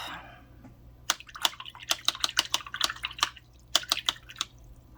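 A watercolor paintbrush is swished and tapped in a water jar, giving a close run of small wet splashes, drips and clinks, some in quick bursts, against a quiet background.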